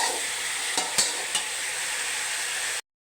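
Mixed vegetables stir-frying with onions in a pan: a steady close sizzle of oil with a few scraping stirs of the spatula, alone without talk, cutting off abruptly.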